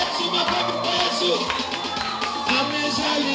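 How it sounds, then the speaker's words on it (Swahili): A crowd claps and cheers in rhythm for Jesus during a live Christmas radio broadcast, with music and a voice leading over the steady applause. "Makofi kwa Yesu, makofi kwa Yesu, makofi kwa Yesu."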